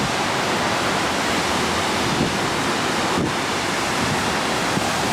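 Loud, constant roar of rushing water pouring over rocks at a river cataract in Florence, Italy, a dense unbroken wash of sound with no pauses.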